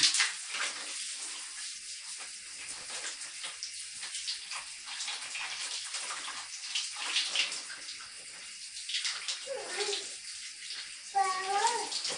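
Warm water runs steadily from a tap into a child's bath, a continuous broadband splash with a voice briefly audible near the end.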